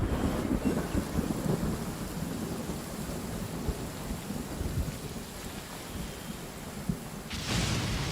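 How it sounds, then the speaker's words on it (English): Heavy rain pours steadily during a downpour in Genshin Impact, with rumbles of thunder rolling underneath and a brighter burst of rain near the end. "Taking a stroll in the middle of a downpour certainly rouses the spirit."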